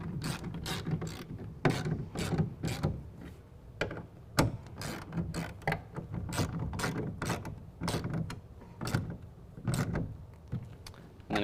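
A ratchet tightens tonneau cover clamps onto the bed rail of a 2017 Ford F-150 with an UnderCover SE cover. It gives a steady run of close clicking strokes with short pauses between them.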